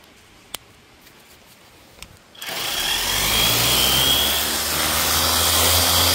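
After a few faint clicks, a cordless pressure car washer starts spraying with a sudden loud, steady hiss and motor whine that continues close and unbroken.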